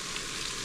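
Tomato paste sizzling steadily in a hot pan while a Napoli-style tomato sauce cooks, a close, continuous hiss with no voices and no break.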